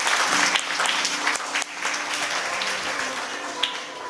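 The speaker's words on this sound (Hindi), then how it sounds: "जोरदार ताली परमेश्वर के वचन के लिए बजाएंगे।" Congregation clapping loudly during a church sermon, a sustained round of applause with a few sharper individual claps standing out before it tapers slightly.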